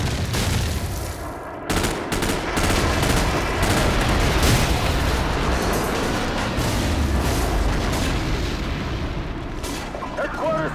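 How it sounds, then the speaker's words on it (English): A friendly airstrike in a video game: loud, dense explosions and rapid gunfire roll on without pause, with faint voices buried underneath. "Friendly airstrike on the way!"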